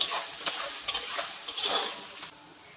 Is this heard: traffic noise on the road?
no